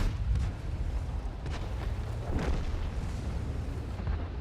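A heavy IS-3 tank is knocked out in a tank battle game, a deep rumbling explosion with a few booming bursts over continuous low engine drone, steady and loud without any talk.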